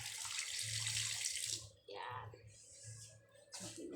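Kitchen tap running water into a cooking pot, a close, loud hiss that stops briefly and resumes in shorter spurts, with a voice speaking briefly over it.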